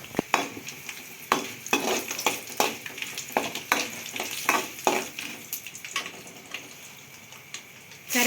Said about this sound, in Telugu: ఎండు మిరగాయలు కూడా వేసుకుంటున్నాం